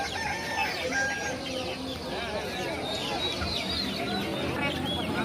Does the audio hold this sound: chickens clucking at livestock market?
yes